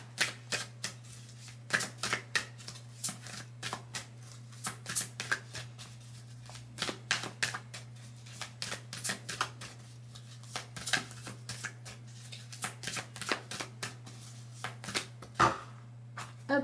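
Oracle cards are shuffled by hand in a continuous run of close, crisp riffling and flicking, with a low steady hum underneath.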